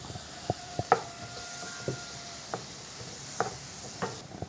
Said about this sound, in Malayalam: അരിഞ്ഞു വെച്ചിരിക്കുന്ന പൈനാപ്പിൾ, കൂടി ചേർക്കും.